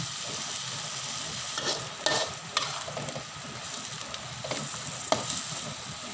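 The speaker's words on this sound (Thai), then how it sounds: "เราจะผัดให้หมูสุกค่ะ" Pork being stir-fried for Thai tamarind chili paste, a continuous soft sizzle with occasional sharp scrapes and clicks of a utensil stirring in the pan, fairly quiet and with no voices.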